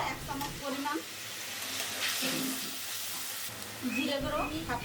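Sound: spice paste with green chilli frying with water

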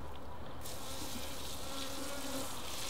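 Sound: honey bees buzzing while moving bee hives

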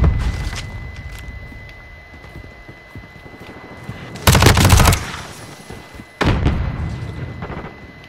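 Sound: MP5 submachine gun firing in Modern Warfare 2 video game

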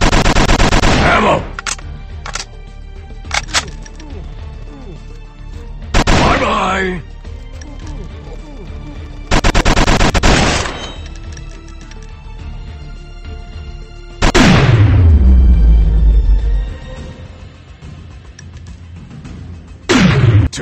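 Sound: gunfire in mobile FPS video game Modern Commando Strike Mission

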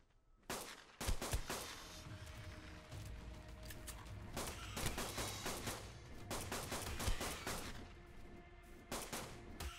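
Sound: fabricated pistol gunfire in the video game Ark: Survival Evolved

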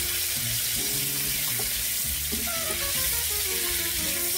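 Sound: vegetables cooking in butter and avocado oil in a pan

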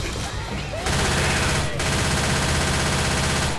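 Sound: gunfire in the video game Left 4 Dead

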